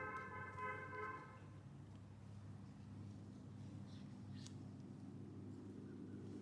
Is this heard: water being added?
no